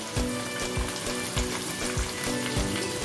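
Chopped tomato, raisins and cashews fry in oil with other vegetables for a Bengali navaratan dal, a steady close sizzle with soft rhythmic stirring scrapes and thumps, no voices.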